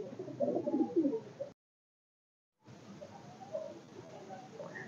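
Madrasi pigeons in a loft coo softly and repeatedly at close range, the calls breaking off briefly before resuming at a lower level.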